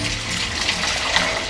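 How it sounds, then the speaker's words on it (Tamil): Warm water pours steadily into a bowl with a spoonful of rock salt for a brief moment, a close, gushing splash with a faint metallic ring. "அதில் வந்து ஒரே ஒரு ஸ்பூன் கல் உப்பும் வெதுப்பான தண்ணி ஊற்றிக்கோங்க."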